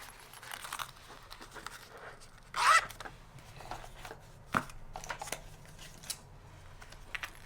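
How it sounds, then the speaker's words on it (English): Zippers on a Plotter pouch are worked at close range, with a quick zip in the middle among quiet rustling, handling clicks and faint fabric movement, all soft and intermittent. "I do like the quality of the zippers and the pouch"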